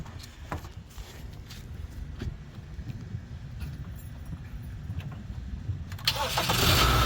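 A 2015 Kia Optima, fresh from a starter replacement, cranks under a low rumbling hum and then catches, its engine surging louder at the end as it fires up nearby.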